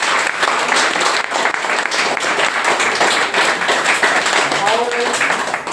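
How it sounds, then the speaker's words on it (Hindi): A crowd at a DXN marketing event applauds loudly, with dense, sustained clapping that stays even throughout, close and full, with a voice faintly mixed in. "सबसे पहले हम लोग ये जो गैनोडर्मा है इसके लिए एक बार जोरदार ताली बजाएंगे।"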